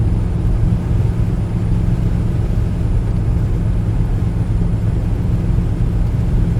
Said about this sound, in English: Oh man, this truck's running so good.